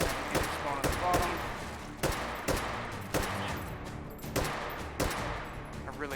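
Rapid gunfire fills a round of H3VR Take & Hold, with bursts of close, sharp shots in quick clusters and short pauses, some echoing cracks, the firing fairly loud and repeating through the whole stretch.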